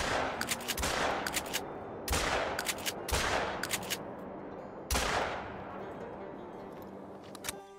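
Shotgun blasts fired at a flock of magpie geese outdoors, four loud sharp reports in quick bursts with short echoing tails, spread over several seconds and heard alone.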